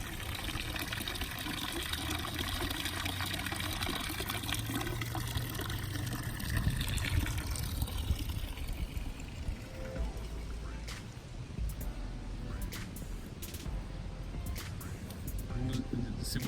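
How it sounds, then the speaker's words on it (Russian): Water running steadily outside a house in Gillette, New Jersey, a continuous rushing wash with scattered sharp clicks later on. "лучше шум воды послушать"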